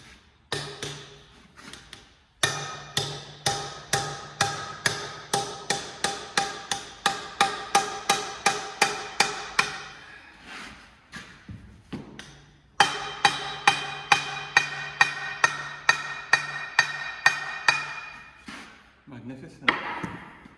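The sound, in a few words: hide hammer striking hydraulic ram gland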